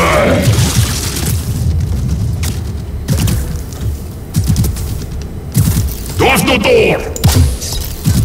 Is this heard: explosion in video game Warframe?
yes